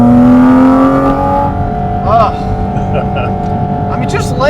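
A Porsche Cayman GT4 RS engine holds near 5,000 rpm in a loud, steady tonal drone with layered harmonics, close up, and brief voices speak over it.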